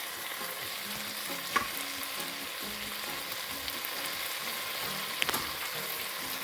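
A seasoned plant-based dinner with all-purpose seasoning, black pepper and salt is stirred in a frying pan: a steady sizzle runs throughout, with a spoon scraping and clacking against the pan in uneven strokes and two sharper knocks.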